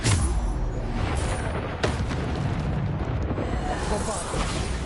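Bombarda blast spells in Hogwarts Legacy: a continuous roar of heavy explosions and crackling impacts, with a sharp pop near the middle. A voice talks over the din.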